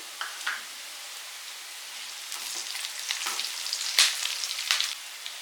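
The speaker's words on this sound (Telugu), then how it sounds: "ఈ ఆనియన్స్ బాగా ఫ్రై అవ్వాలండి" Onions and green chillies frying in oil for chicken curry, a bright crackling sizzle with scattered pops that grows busier toward the end, close and alone.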